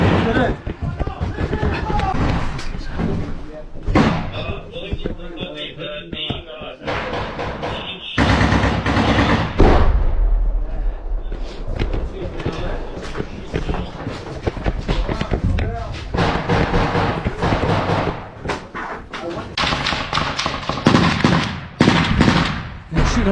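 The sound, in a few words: gunfire in combat in Bakhmut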